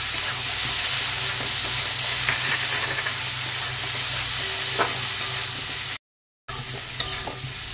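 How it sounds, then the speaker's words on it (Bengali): Mango pieces fry in a pan with chili-cumin paste for aamshol, giving a loud, continuous close-up sizzle with scraping stirs that briefly cuts out near the end before resuming. "আমের সঙ্গে মশলা খুব ভালো করে কষিয়ে নিয়েছি।"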